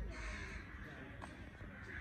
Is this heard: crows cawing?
yes